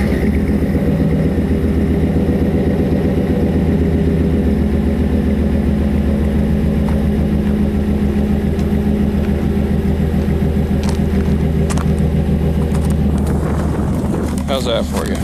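An engine idles steadily and loudly, close by, with a constant low rumble running through the whole stretch and no pauses.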